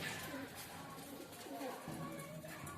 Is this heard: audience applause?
no